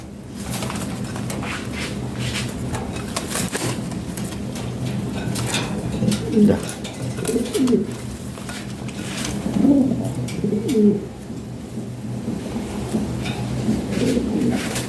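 Pigeons coo repeatedly at a pigeon market, several soft throaty calls rising and falling over a steady background hum and bustle, with a few birds clearly close.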